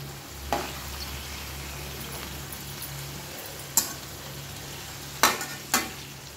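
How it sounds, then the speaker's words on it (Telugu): Gourds frying in a pan over steady sizzle, with a few sharp clinks and scrapes of stirring spaced through the stretch, fairly close and with no talk. "అలా ప్రతి ఒక్కటి మిక్స్ చేయాలి, తిప్పి వేయాలి. అప్పుడే బాగా వేగుతాయి."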